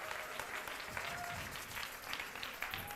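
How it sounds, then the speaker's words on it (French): A church congregation clapping for Jesus, a dense steady burst of applause from many hands, moderately close, with faint voices mixed in. "Let us clap for Jesus."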